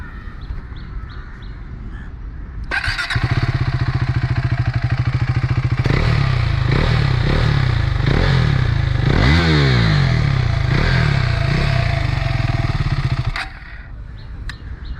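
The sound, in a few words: KTM Adventure 390 motorcycle aftermarket exhaust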